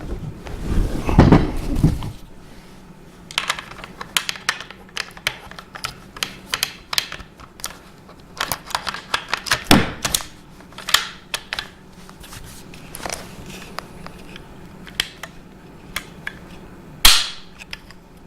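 Rifle bolt cycled repeatedly in a newly fitted chassis on a reloading bench, sharp close metallic clicks and clacks in irregular bursts, with a louder handling clatter at the start and quiet gaps between strokes.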